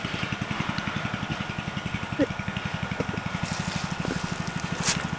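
Go-kart engine with a carburetor problem running rough, a steady low rapid chugging putter with uneven pulses, heard from a short distance with faint background noise.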